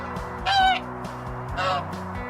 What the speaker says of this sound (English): Geese honk just like flamingos, but a little louder.